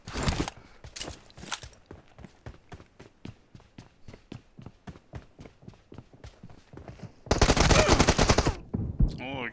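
Automatic rifle fire in PUBG, an M4 or Groza: rapid evenly spaced shots in a long burst, then a loud dense volley near the end, with faint voices in the background.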